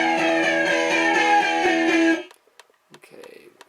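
Electric guitar played through the flanger setting of a Digitech RP90 multi-effects pedal, a dense strummed chord with a swirling, sweeping tone for about two seconds that then cuts off, followed by faint trailing sounds.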